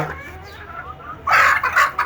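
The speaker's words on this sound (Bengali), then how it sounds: "না দিলেও চলবে যেহেতু দেশি মুরগি একটু রাক্ষসের প্রকৃতির ওরা" Native village chickens cluck close by, a soft run of low clucks followed by louder, busier bursts, with no talking.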